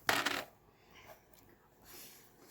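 Three dice rolled onto a table during a tabletop mech wargame, heard as one brief close rattling clatter at the start that quickly dies away into near quiet.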